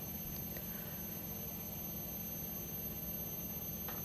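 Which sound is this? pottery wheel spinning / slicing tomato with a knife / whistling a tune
pottery wheel spinning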